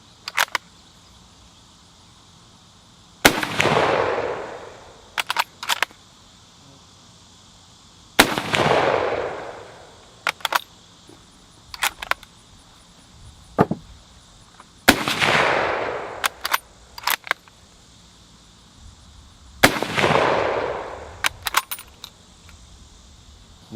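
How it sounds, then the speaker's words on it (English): Swedish Mauser m/96 long rifle made by Carl Gustav in 1910, fired outdoors. Four loud, sharp gunshots ring out at spaced intervals, each with a lingering rumble. Clicking bolt-action cycling and clinking brass fill the gaps between the shots. "So let's put some rounds through the Swedish. This is the M96 long rifle."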